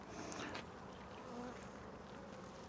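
Honeybees hum around a hive frame being split into a nuc, a faint, steady buzzing drone without any talk.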